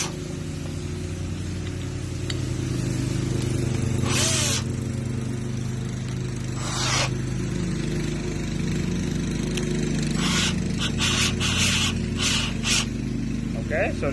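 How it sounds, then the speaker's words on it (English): A neighbor's lawn mower runs outside, a steady droning engine hum that persists throughout at moderate loudness, with occasional brief clanks and hisses over it. "my neighbor using his mower right now, so it's a little noisy"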